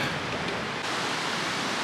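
Surf washing onto a beach in Panama, a steady broad roar of breaking waves that stays loud and continuous throughout, with no voices.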